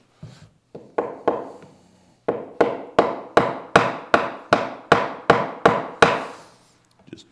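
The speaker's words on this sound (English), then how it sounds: "Use my favorite flooring hammer." A flooring hammer strikes wood repeatedly, a few spaced blows then a steady run of about a dozen sharp, evenly timed hits, close and loud.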